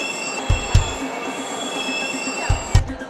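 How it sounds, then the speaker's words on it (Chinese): In an underground subway station, a passing train fills the space with a continuous rumble and high, sustained wheel squeal, broken by paired heavy clacks as the cars cross rail joints. "我在地铁站里面"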